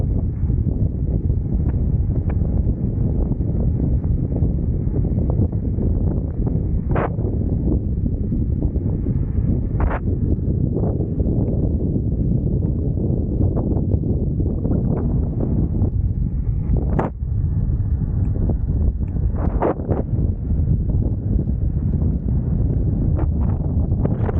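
Steady wind buffets the microphone in wooded country throughout, a constant low rumble with occasional sharper gusts and faint rustling.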